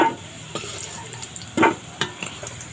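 Potatoes frying in hot oil, a soft sizzle broken by a few sharp scrapes and clinks of a utensil stirring or lifting pieces from the pan, close by.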